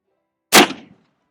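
A single 1874 Sharps rifle shot cracks out loud and close, its sharp blast trailing into a short rolling decay on an otherwise quiet outdoor range.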